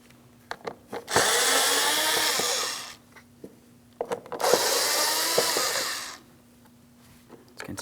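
A power drill spins out screws from a 2006-2010 Hyundai Sonata driver-side door panel, two steady whirring runs of a couple of seconds each, separated by quiet clicks and handling noises.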